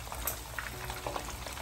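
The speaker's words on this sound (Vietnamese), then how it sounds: "Này em chiên ngoài bếp nè mà nó văng em né" Scad fish fry in hot oil in a home kitchen, a steady close crackling sizzle dotted with small pops and spatters, with no talking.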